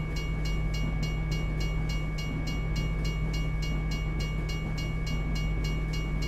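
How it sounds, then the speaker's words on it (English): Steady loud rumble of a long freight train passing in a trucking video game, with evenly spaced wheel clacks repeating over the continuous drone. "Must have put the longer freight train models in here."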